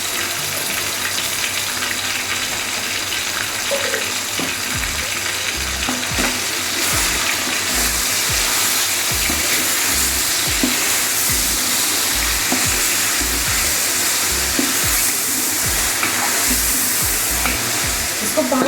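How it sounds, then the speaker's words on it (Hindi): Chicken sizzles while being fried with onions, garlic and ginger paste in a pot, a steady loud hiss broken by repeated scraping stirs of a utensil against the pot. "तो चिकन को भूनते हुए मुझे 5 मिनट हो गए।"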